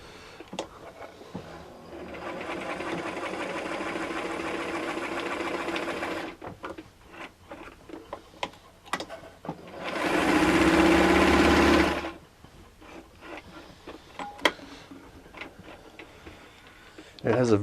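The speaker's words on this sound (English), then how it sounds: "So I'll just step on the pedal here so you can see it sewing." A late-1950s Kenmore sewing machine with all-metal gears runs under its pedal, stitching in two steady bursts, the second louder and close, with quiet gaps and faint clicks between.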